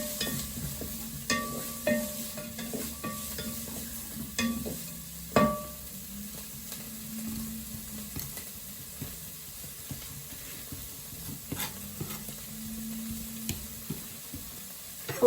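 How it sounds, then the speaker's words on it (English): Onion frying in a pan while being stirred, a soft steady sizzle with scraping and clattering from a utensil against the pan in irregular strokes, fairly quiet and close. "Stir the onion, make sure that's not burning."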